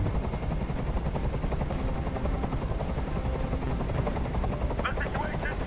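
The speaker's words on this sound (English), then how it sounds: "Tell that helicopter to get out of here!" Helicopter in the video game Detroit: Become Human, a loud, steady rotor drone that fills the scene, mixed with dense gunfire-like crackle and game sound effects.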